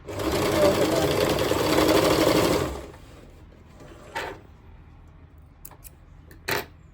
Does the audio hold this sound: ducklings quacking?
no